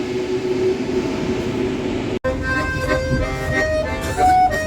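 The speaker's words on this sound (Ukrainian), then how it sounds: "Будні парижського метро." Paris metro subway train on a trip to the Louvre, a steady rumbling ride that cuts out briefly, then returns with brighter whining and squealing tones from the train, close and continuous.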